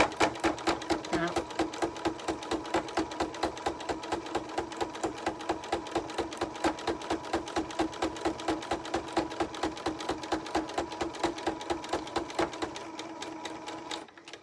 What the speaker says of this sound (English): Was quite noisy because there are quite a few layers of fabric there, but the machine and the needle handled it well